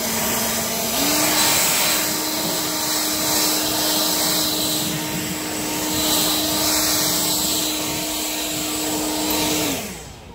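A blower clears debris off a John Deere E130 mower deck, a loud steady whine close by that starts, holds a constant pitch for about nine seconds and then winds down.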